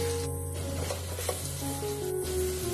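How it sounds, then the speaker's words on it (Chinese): Pounded green peppers and eggs stir-fry in a hot wok with sauce, giving a steady, close sizzle broken by brief scraping stirs, with faint background tones and no talking. "继续翻炒均匀，让里面所有的食材都能裹上料汁。"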